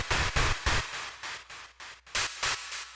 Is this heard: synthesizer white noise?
yes